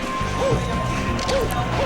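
Falco's forward smash lands in a Super Smash Bros match, a sharp crashing hit that repeats in quick, evenly spaced impacts over a steady game-audio bed, loud and close.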